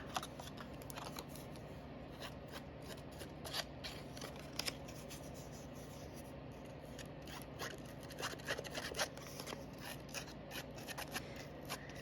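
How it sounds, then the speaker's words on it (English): Scissors snip through paper in quick, irregular cuts, quiet and close, with faint rustling between snips and no talking. "I just use a pair of Scrappy scissors when I do this"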